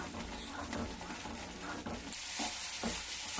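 Paneer and milk being stirred in a kadhai over a low gas flame for dry milk barfi, giving a steady scraping and bubbling texture with soft, repeated stirring strokes throughout, fairly quiet and close.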